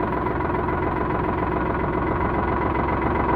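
A 2013 Sonalika RX 60 DI tractor engine idles steadily, a loud, close diesel rumble with a constant low throb and vibration, no voices.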